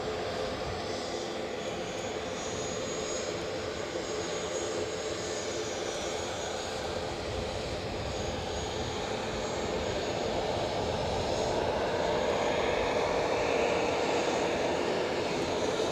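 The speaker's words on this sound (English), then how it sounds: "The Bristol Express is departing." A Bristol Express aircraft departs Edinburgh Airport, its engines a steady, faint, distant roar that swells slightly toward the end, with no talk.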